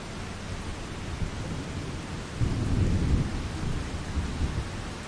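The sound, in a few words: rain and thunder in a video game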